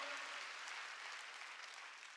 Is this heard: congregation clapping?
yes